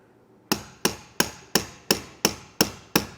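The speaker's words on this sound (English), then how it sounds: "to lightly tap this with a hammer into place" Eight evenly spaced, sharp metallic taps from a hammer striking a socket extension to seat a part while installing a Bestop EZ Fold tonneau cover on a 2024 Chevrolet Silverado, close and loud with no talk.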